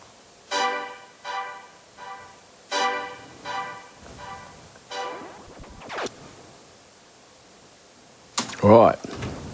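Short brass notes bounce through a Radiohead-style multi-tap delay, each stab followed by quieter repeating echoes in a rhythmic pattern, ending with a louder, smeared burst.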